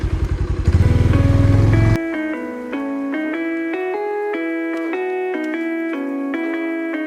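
A worn motorcycle labours up Marayong Tong hill near Alikadam, Bandarban, its engine roaring loud and rough for about two seconds. After that the engine gives way to steady shifting tones that rise and fall.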